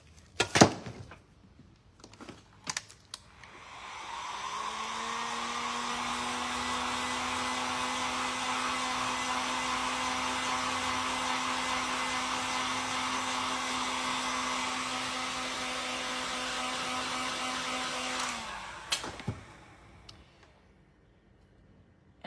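A hair dryer dries fabric paint inlaid on a thrifted chicken, whirring steadily for about fourteen seconds between a few clicks and handling knocks at the start and end.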